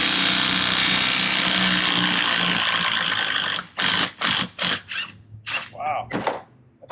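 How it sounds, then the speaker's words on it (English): A power tool drives bolts out of a Bob's boat jack plate during teardown, a dense, loud, steady mechanical whir for several seconds. It stops and is followed by choppy, intermittent bursts of sound. "Taking all these bolts out, as many as I can here,"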